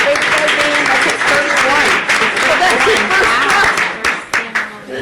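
Applause at a city council worksession, a dense burst of many hands clapping loudly with voices mixed in, thinning into scattered claps near the end.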